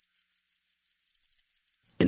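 Field crickets on Kauai chirping in short, rapid repeated pulses, a rhythmic high trill from one or a few insects, ending in a sudden broadband thump.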